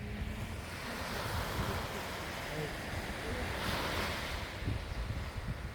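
Sea waves wash onto a beach in Malaga, a broad, continuous roar of surf mixed with wind buffeting the microphone, steady and moderately loud without clear speech.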